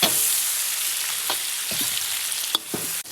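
Beef brisket stir-fried with hotpot base in oil, a steady loud sizzle throughout with a few sharp scrapes and clacks of the spatula against the pan, close up.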